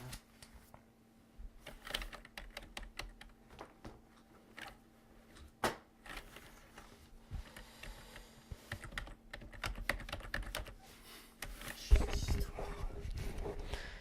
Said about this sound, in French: les bruits de clavier, de souris